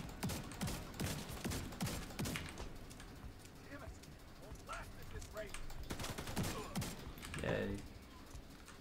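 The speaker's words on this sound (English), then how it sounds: "Now he shoots me." Enemy gunfire in The Division 2, rapid bursts of shots crackling in clusters, some close and sharp, others thinner, with someone talking over parts of it.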